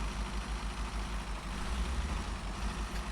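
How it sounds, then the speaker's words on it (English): Truck engine from the video game Snowrunner, a low, steady idle with a tinny, fairly high-pitched tone and faint rhythmic pulsing, running alone without talk. "quite tinny, quite a high-pitched engine"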